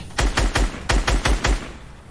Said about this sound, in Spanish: Aquí disparó con la escopeta